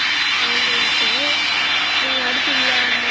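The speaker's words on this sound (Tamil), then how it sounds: "first engine button" An Airbus Beluga jet engine spools up in a flight video game, a steady, loud whine and roar with someone talking over it throughout.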